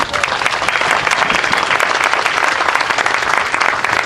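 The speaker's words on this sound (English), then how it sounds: "Please give him a big round of applause." A large audience at an official One World Day ceremony in Cleveland applauds, a dense, loud, continuous roar of clapping that holds steady throughout with no speech over it.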